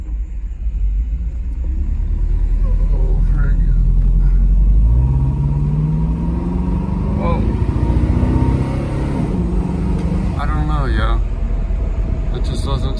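A Mercedes SL500 engine pulls at full throttle on an abandoned car with a newly fitted fuel filter, a loud deep rumble rising in pitch as it accelerates, with someone talking over it.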